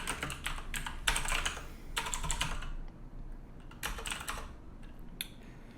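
Commands are typed on a computer keyboard in quick bursts of close, crisp key clicks, separated by short pauses, with no talking.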